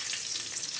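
Curry leaves crackle and sizzle in hot native coconut oil, a dense, steady hiss of frying held close and loud for the whole short moment.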